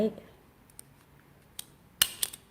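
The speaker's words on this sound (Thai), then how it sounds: "เสร็จแล้วเราก็ใช้แม็กเย็บเอาไว้" Stapler fastening folded mango leaves while making a krathong, a few sharp metallic clicks and snaps near the end after a quiet stretch with light handling noise.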